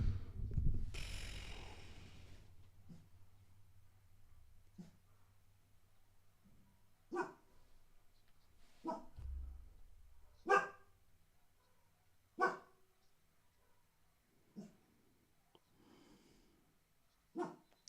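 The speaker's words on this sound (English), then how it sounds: "Dog." A dog barks in short, separate bursts spaced a few seconds apart over a steady low hum, with one louder rough burst near the start. The barks are moderately close and stand alone without talk.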